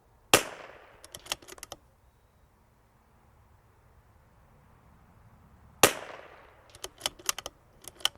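CZ 457 .22LR rifle with L3I barrel firing at targets: two sharp, loud single shots several seconds apart, each followed by faint clicks and taps of the action.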